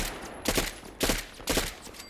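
An Interplay 10mm SMG modeled on the HK MP9 fires in Fallout 4 in three short, sharp bursts spaced about half a second apart, crisp and close with brief quiet between them.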